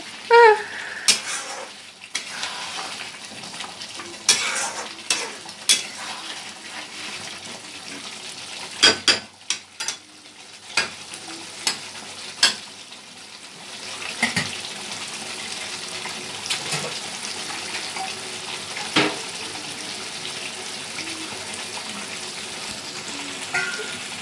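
Shahi chicken cooks in a pan with soft sizzling and intermittent stirring, scraping and utensil clanks against the pan, close and moderately loud, with a brief splash of water.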